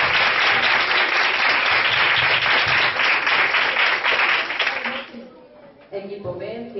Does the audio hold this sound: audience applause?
yes